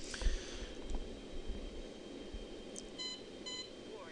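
Low fuel alarm in the spaceflight simulator Orbiter during a lunar base approach: two short, bright beep bursts near the end, faint over a steady low hum.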